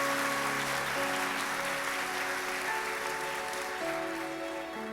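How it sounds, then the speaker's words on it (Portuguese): A church congregation applauds steadily throughout, the clapping blended with sustained tones from keyboard or organ music playing underneath at an even level. "Vamos aplaudir o nome de Jesus por esse milagre."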